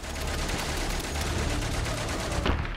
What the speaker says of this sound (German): wir warten, bis der da aufhört zum Schießen